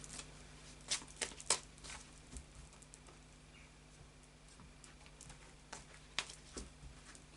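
Tarot cards being shuffled by hand, quiet papery riffles and soft slaps in irregular bursts, close up against a faint hum.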